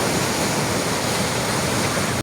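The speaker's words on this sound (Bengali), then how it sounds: "প্রচুর পরিমাণ বৃষ্টি হওয়ার কারণে পাহাড় থেকে এরকম ভাবে পানিগুলা নামছে।" Floodwater rushing down from the hills after heavy rain, a loud, dense, continuous roar of churning water with no talk, cutting off abruptly at the end.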